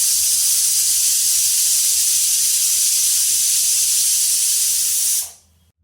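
Pressure cooker on the stove releasing steam while cooking sambar, a loud continuous hissing whistle lasting over five seconds before abruptly stopping.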